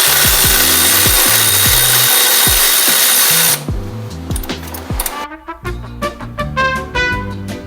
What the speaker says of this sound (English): We'll see if we have enough space to use our electric ratchet.